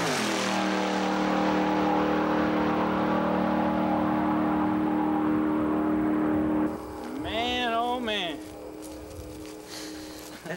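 A Camaro drag car powers down the strip with a loud, sustained engine roar that rises in pitch. The sound then fades, and people talk and cheer near the end.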